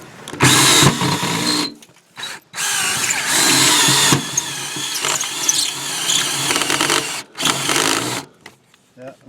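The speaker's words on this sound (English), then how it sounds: "Now we'll use the unibit. And that is usually a fast cutter." A power drill fitted with a unibit step bit bores a hole, running in loud whining bursts broken by short pauses, close by and mixed with voices.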